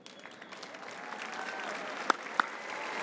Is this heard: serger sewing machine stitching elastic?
no